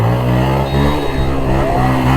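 KTM 390 motorcycle on a group ride, a loud steady engine drone with harmonic tones and wind rush, recorded close while riding.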